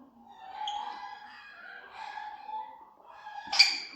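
Chickens wait in their coop in the early morning to be let out, giving soft, drawn-out clucks and murmurs that rise and fall at moderate distance, ending in a sharp, louder squawk.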